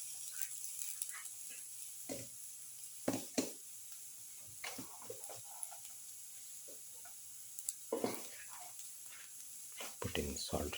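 Ginger frying in a pan for a cumin, winter melon, potato and yogurt casserole: a steady, soft sizzle close by, broken by sharp clicks and scrapes of stirring.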